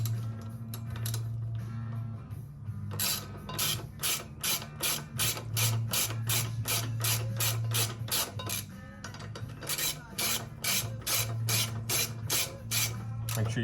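Ratchet snugging the front brake caliper bolts on a 1999 Honda Shadow VT1100 Aero, a long run of rhythmic, close clicking strokes over a steady low hum.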